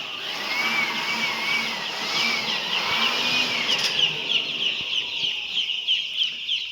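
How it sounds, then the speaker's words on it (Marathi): A constant whooshing blower roars steadily, clearing dirt from a poultry feeding line, with many four-day-old chicks peeping and chirping throughout. "ते ब्लोअरनं आम्ही ते घाण काढत असतो"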